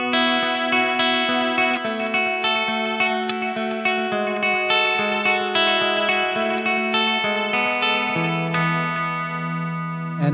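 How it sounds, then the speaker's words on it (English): Electric guitar run through a vintage-style Memory Man delay pedal, sustained chords and picked notes with chorus-like modulation and echo, steady and close for about ten seconds with no talking. "I just love that Memory Man sound"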